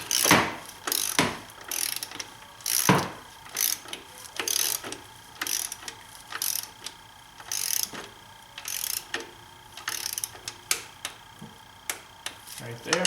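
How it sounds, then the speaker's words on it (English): A torque wrench ratchets down the valve cover bolts on a BMW six-cylinder engine, making sharp, close metallic clicks in irregular bursts of strokes with brief pauses between them. "I'm going to start by torquing down the center one."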